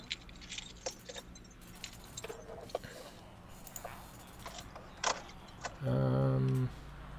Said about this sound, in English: Excuse the car noises